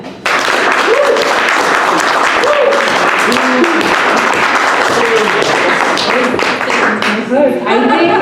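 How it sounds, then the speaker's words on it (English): Audience applauding at a comedy dating show to vote for a bachelor, dense sustained clapping filling the room for several seconds, with faint voices and a brief whoop rising over it near the end. "If you want your comedy bachelor of the night to be Ray Ann"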